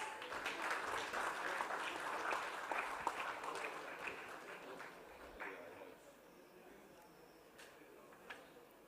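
A room full of people at an MOU signing during a real-estate finance conclave breaks into a dense round of applause, loud and steady at first, then thinning out toward the end, with a few faint voices underneath.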